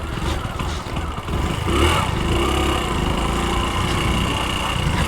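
An old, roughly 2001 Hero Splendor motorcycle that stalls at idle is kept running by hand-revving. Its single-cylinder engine drones loud and close, with the revs rising and holding steady throughout.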